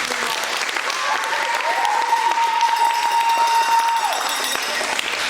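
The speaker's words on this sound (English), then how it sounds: "everybody give a round of applause" An audience applauds steadily after student passion project presentations, a dense, even wash of clapping held for several seconds with a brief whistle-like tone in the middle.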